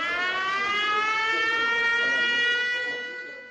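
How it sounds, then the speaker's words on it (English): A steady wailing air raid siren in Kyiv during wartime, heard from a shop, sustained and distant, holding its tone for a few seconds before slowly fading. "At the shop, an air siren sounds, but nobody panics."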